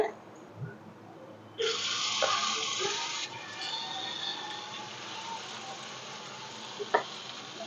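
Paniyaram batter frying in ghee in a paniyaram pan over a medium flame, a steady close sizzle that starts abruptly partway through and continues with faint clinks.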